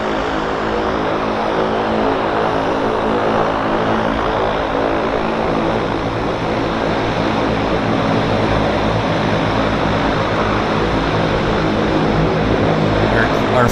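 A Harbour Air floatplane bound for Victoria roars loudly and steadily as it departs Vancouver's downtown harbour, its propeller engine drone filling the scene without letup, with faint talk underneath.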